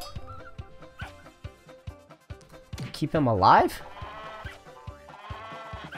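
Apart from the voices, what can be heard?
sheep bleating in a video game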